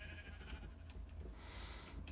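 Sheep bleat in the video game Minecraft, one drawn-out wavering bleat rising briefly out of a quiet low hum and a soft continuous background.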